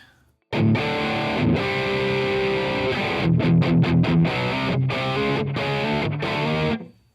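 An electric guitar runs through the AmpliTube 5 metal preset, heavy distortion on sustained chords followed by a string of choppy palm-muted stabs. It is loud and alone, with no talking, and cuts off abruptly at the end.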